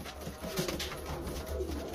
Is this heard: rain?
no